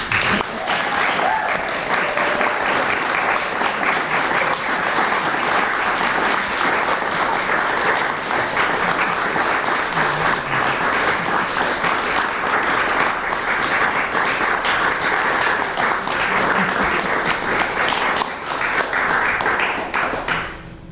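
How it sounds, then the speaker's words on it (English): An audience at a town mayoral candidate forum claps for the candidates in a sustained, even round of applause lasting about twenty seconds, with a few scattered voices faint underneath. "And I think they deserve a round of applause."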